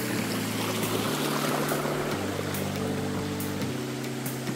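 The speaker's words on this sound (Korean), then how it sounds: "아, 저 위에 폭포가 있습니다." Ssanggok Waterfall in the Chilbosan valley at Goesan sends up a steady, dense rush of falling water, and a low, even hum runs beneath it throughout.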